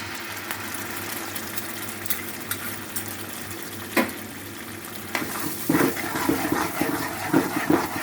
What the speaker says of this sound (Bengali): এবার আমি গ্রেভিটা দিয়ে দিলাম এর মধ্যে।